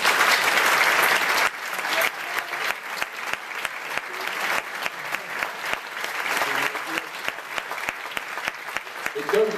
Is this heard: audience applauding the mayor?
yes